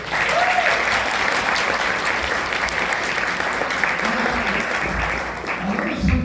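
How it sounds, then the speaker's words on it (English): An audience at a jazz band festival gives a performer a round of applause, a loud, dense burst of clapping from a crowd that carries on evenly for several seconds, with some voices faintly mixed in. "Let's give him a round of applause"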